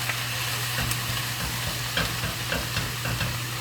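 Onion with bacon cooks in a pot for baked beans chili, a steady close sizzle with intermittent scraping stirs of a spoon against the pot, continuous and moderately loud, with no talking.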